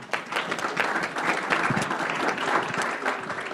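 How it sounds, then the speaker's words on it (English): A Rotary club meeting audience gives a round of applause, dense continuous clapping from many people, steady and moderately loud for the whole stretch, with a few voices faintly mixed in. "So give yourselves a round of applause for that."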